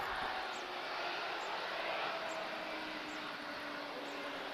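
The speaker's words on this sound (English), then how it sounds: "A seguir temos A320 a chegar da Air France" An Air France Airbus A320 jet arriving at Lisbon Airport gives a steady, broad engine roar heard from a distance, holding at an even level throughout with no voices.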